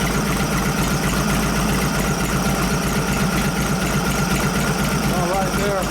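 A 1989 Softail with a 93ci panhead engine and Mikuni HSR42 carburetor idles steadily and close up, a continuous low rumble over a garage-like background, with people speaking over it.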